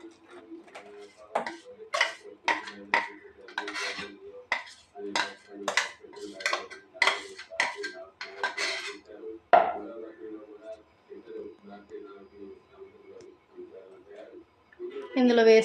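Peanut chutney with tempering is poured into a bowl, with rapid metallic clinks and taps of utensils against dishes in a quick series, then quieter scraping, while a voice talks in between.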